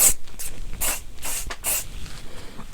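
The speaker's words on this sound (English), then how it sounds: "give this can a good shake, and I'm going to spray" Several short bursts of aerosol dry hair spray hiss, close and fairly loud, separated by brief pauses, with no one talking.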